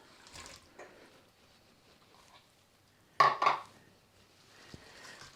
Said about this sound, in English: Then I'm going to add the chopped tomatoes